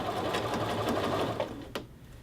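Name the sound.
sewing machine edge stitching a men's shirt collar band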